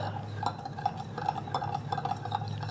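Mapo tofu sauce with three tablespoons of ketchup being stirred in a bowl, a steady scraping swirl with light clinks of the utensil against the sides, close and fairly quiet under a low background hum.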